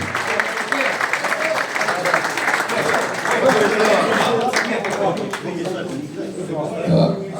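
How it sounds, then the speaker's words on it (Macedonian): A crowd applauds at an evening reunion of FK Tetex's most successful generation of footballers, with steady, dense clapping running under a voice talking throughout. "еден аплауз за Аца Новичич"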